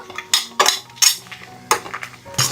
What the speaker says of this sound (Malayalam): അപ്പോൾ ഇഞ്ചി കൂടെ ചേർത്ത് കൊടുത്ത് 1 മിനിറ്റ് ഒന്ന് ഇളക്കി കൊടുത്തിട്ടുണ്ട്